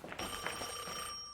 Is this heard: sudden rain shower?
no